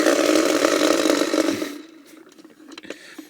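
A wind-up Kamen Rider Fourze Foodroid POTECHOKIN toy runs its gimmick, giving a loud, harsh buzzing whir for under two seconds before stopping abruptly, followed by faint clicks and handling noises.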